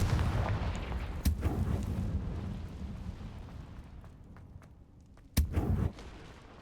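Confringo fire spell blasts in Hogwarts Legacy, two sharp explosive booms a few seconds apart over a low rumbling game background, with no talking.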